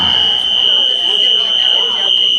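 A fire alarm blares a loud, continuous high-pitched electronic tone indoors at a comedy show, holding steady throughout with faint crowd noise underneath.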